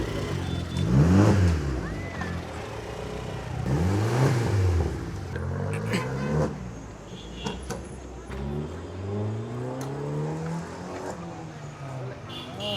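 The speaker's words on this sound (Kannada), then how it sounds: "ಓ ಅಬರ್ತ್ ರೇವ್ ಮಾಡಿ" A small Abarth car's engine revs in repeated rising and falling sweeps, loud and close at first and then lingering in lower rumbles, while people talk nearby.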